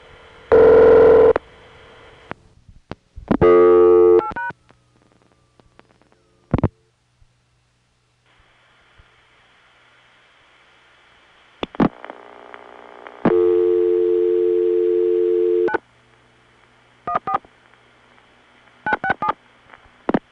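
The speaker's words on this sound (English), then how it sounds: "Here's an example of dialing an area code without a 1 first." An early-1980s New York telephone line as an area code is dialed: separate bursts of touch-tone beeps, a longer steady tone, then more scattered clicks and short tones, all clean and close with no voices.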